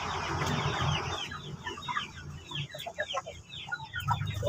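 Native chickens clucking and chattering in a busy flock, rapid overlapping calls close by, growing denser and louder toward the end.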